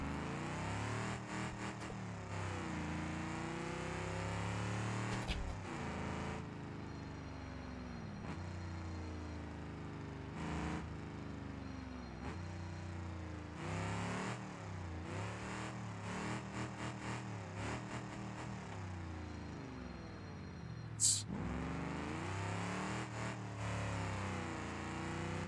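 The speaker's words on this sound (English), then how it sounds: "Sounds alright for a junk engine, I have to say." A junk engine in a car in the BeamNG driving game revs and pulls through gears, with loud, continuous engine drone rising and falling in pitch, alone without talk.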